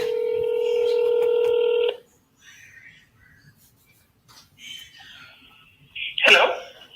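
A telephone call is dialed: a rapid run of loud touch-tone beeps lasts about two seconds, then gives way to quiet rustling and a sharp burst near the end.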